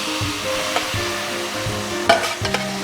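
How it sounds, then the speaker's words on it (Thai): Boiled glass noodles tossed into a hot pan with shrimp and black pepper, a steady loud sizzle with repeated scraping stirs of a spatula and a few sharp clanks against the pan, close up, no talking. "เราก็มาใส่เส้นที่เราต้มไว้เลยนะครับ"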